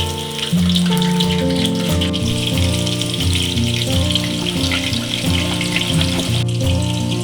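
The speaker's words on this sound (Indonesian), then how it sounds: "Goreng kentang." Potatoes fry in hot oil in a covered pan, giving a loud, dense, continuous sizzle and crackle from start to finish with no voices.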